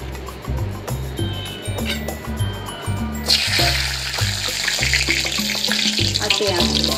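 Bay leaves dropped into well-heated cooking oil for a chicken curry, giving a loud, steady sizzle that swells partway through, under low background music.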